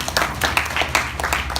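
A small group claps at a Weah for Clean Cities press conference, with brief uneven bursts of hand claps spread over a couple of seconds at moderate loudness.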